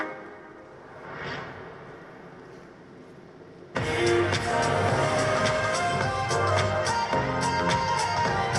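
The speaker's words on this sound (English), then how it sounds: "let me show you the car driving by" A 2020 eighth-generation Hyundai Sonata passes by outdoors, a quiet hum for the first few seconds before a sudden loud, broadband rush of road and engine noise that holds steady to the end.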